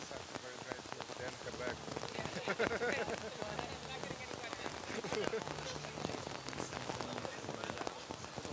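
Steady rain falling on surfaces at an outdoor archery competition, a dense continuous patter of drops at moderate volume with occasional louder splashes.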